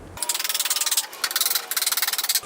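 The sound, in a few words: power drill drilling through pallet board into runner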